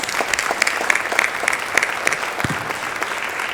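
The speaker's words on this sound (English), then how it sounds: "Let's give them all another round of applause." At a State of the City event, an audience applauds city council members with brisk, fairly close clapping, individual claps ringing out over the steady crowd patter.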